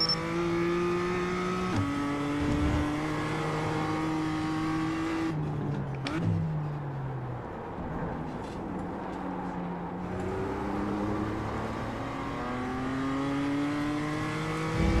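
Race car engine in a sim racing video game, revving up through the gears with repeated rising pitch sweeps, briefly dropping and backing off mid-clip before pulling hard again; loud, close and continuous, with no talking.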